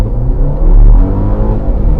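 A Volvo S90 accelerates hard from a standstill, a loud, deep engine roar and road rumble heard from inside the car, swelling briefly before holding steady.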